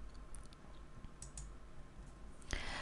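A mouse click on the OK button in Excel macro-recording software, a few small sharp clicks spread through the span, plus one sharper clear click near the end, close and fairly quiet with no talking.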